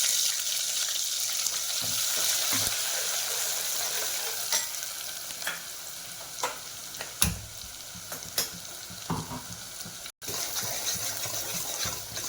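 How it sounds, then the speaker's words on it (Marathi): Masala for mutton kala rassa frying in oil with green cardamom, a spoon stirring it: a continuous sizzle with scraping strokes and a few sharper knocks against the pan, no one speaking. "चांगला मसाला आधी परतून घ्यायचा आहे चांगला."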